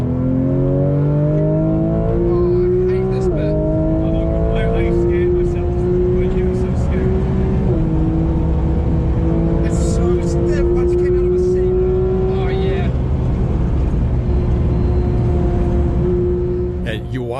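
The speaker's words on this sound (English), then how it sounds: "They stuck them inside of a 991 GT4 RS on a track day at the Nürburgring" A Porsche 991 GT4 RS engine on a Nürburgring Nordschleife track day, close and loud throughout, climbing steadily in pitch through each gear before dropping at the upshifts, with other noise mixed in.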